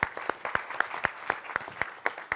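Sparse audience applause at a tech conference recap meeting: a dozen or so separate, fairly evenly spaced claps from a small group, light and close.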